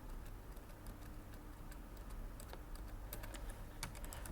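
Rapid typing on a computer keyboard during a Minecraft-style gaming session, a steady stream of light clicky keystrokes with occasional louder taps over a constant low background hum.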